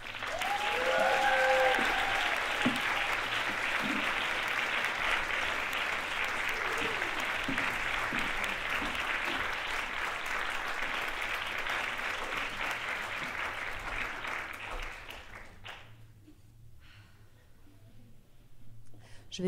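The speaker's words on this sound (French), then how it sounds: "Je vous demande énormément d'applaudissements pour Lady Salvia." A crowd applauds Lady Salvia at a show, a dense, sustained burst of clapping with a few whoops early on, gradually thinning and fading out near the end.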